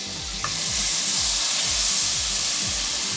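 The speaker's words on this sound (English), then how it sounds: "I'll cook our sauce for our feta" Garlic sauce for feta cooking in a pan, a loud, steady close-up sizzle and hiss of frying with a low rhythmic stirring pulse underneath, no talking.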